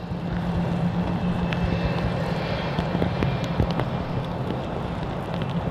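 Aircraft engines at Manchester Airport give a steady, moderately loud roar and hiss with wind buffeting the microphone, and no talking.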